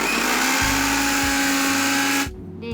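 A mixer grinder whirs loudly and steadily as it grinds boneless chicken for nuggets, its motor pitch wobbling slightly, then cuts off abruptly near the end and leaves a quieter tail of faint clatter.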